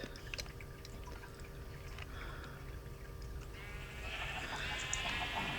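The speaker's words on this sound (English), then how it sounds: "There's all the sheep." Sheep bleat faintly in Minecraft over a steady, noisy ambient background with some watery rushing, no talking.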